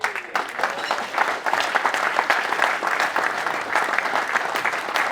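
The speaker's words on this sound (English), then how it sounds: "Let's hear it for Ben Lavelle" A crowd at a Morecambe FC legends question-and-answer evening claps steadily and loudly for a former player, a dense, continuous patter of many hands lasting the whole stretch without a break.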